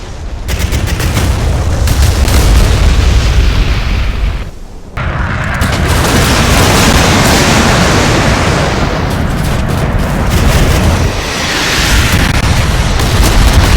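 Free fall bombs exploding in the Modern Warships naval combat video game: loud, deep, continuous booming blasts and rumbling detonations fill the scene, with a brief dip near the middle before the roaring explosions resume.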